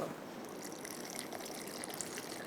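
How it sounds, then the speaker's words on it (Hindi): Water poured into a thickening mixture while cooking mutton rice, a short continuous splashing trickle heard close and fairly steady, with no talking over it. "यहाँ पर मैं मज़ीद और थोड़ा सा इसके अंदर पानी ऐड कर दूँगा"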